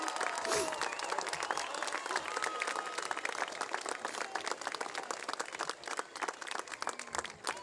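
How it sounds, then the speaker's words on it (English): Audience applause fills a high school graduation ceremony at Lakeview High School, dense steady clapping from a large crowd that carries on throughout and thins slightly toward the end. "give him a round of applause"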